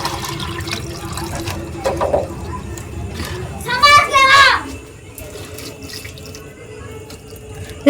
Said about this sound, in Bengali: ওই জন্য একটু জল দিয়ে যাই